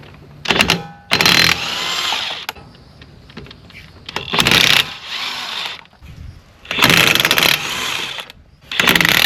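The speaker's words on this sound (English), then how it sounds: "We're going to use our handy dandy little impact wrench." A small impact wrench works on the brake bolts of a 2013 Ford Fiesta, firing in several loud, harsh bursts of rapid hammering with quieter gaps between them.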